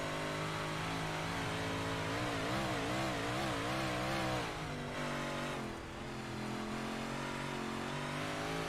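Big Block Modified race car engines at Charlotte in the iRacing game roar at high revs, the pitch wavering and climbing through gear changes, one dipping briefly near the end before the steady drone carries on.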